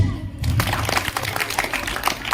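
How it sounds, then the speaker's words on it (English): A classroom audience of schoolchildren claps together at an English club activity, a steady patter of many hands close by with some voices mixed in. "Claps."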